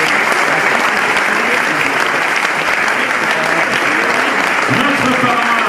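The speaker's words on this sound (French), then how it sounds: "Applaudissements pour notre parrain, monsieur Bernard Hinault." Audience applause at the presentation of the UCI Cycling Worlds Haute-Savoie Mont-Blanc 2027, greeting a former Tour de France winner: a loud, dense, steady wash of many hands clapping for the full length.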